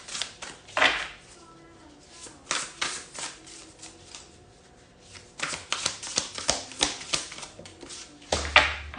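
Oracle cards shuffled and pulled during a starseed collective reading make loud, close bursts of papery riffling and flicking, grouped into clusters with short quieter gaps, and a faint voice now and then underneath.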